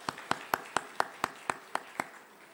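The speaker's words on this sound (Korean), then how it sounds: "우리 서연이 박수" Ten sharp, evenly spaced hand claps ring out in a church service for a small child, a slow steady rhythm from one nearby clapper in a quiet room.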